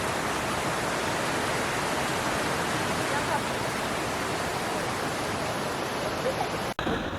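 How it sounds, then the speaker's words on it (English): A very high waterfall at Plitvice Lakes National Park in Croatia roars as a dense, steady broadband rush of falling water that stays loud and continuous. A brief sharp knock comes near the end. "don't think I've ever seen a higher waterfall in my life"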